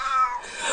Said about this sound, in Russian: Артём, что с котом?